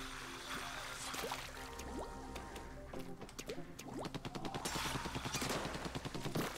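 Rapid bursts of ink fire from a weapon in Splatoon 2 as targets are shot, a dense run of wet splattering pops over game music, growing faster and denser toward the end.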